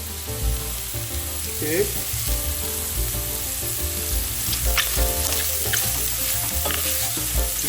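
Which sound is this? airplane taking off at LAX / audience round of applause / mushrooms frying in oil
mushrooms frying in oil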